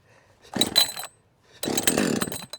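A Husqvarna 562XP chainsaw on choke fires briefly twice, each short pull-start sputter lasting about half a second to a second, close and fairly loud with a pause between.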